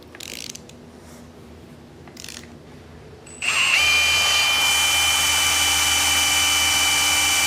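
A few faint clicks, then a power drill whirs up loudly and runs continuously at a steady high pitch, close by.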